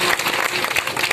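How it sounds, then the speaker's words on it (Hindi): Enthusiastic audience applause at a community gathering, a dense, steady wash of clapping hands that fills the whole moment at close range with no voices standing out. "उनके लिए जोरदार तालियों से स्वागत करिए।"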